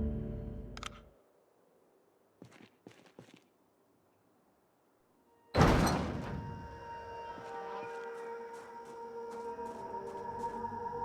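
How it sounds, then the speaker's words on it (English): A heavy bunker door in the Project Zomboid video game opens with a loud, sudden thud and rush, followed by a sustained outdoor ambience. A few faint clicks come earlier in near silence. "Finally reaching the top, I opened the door."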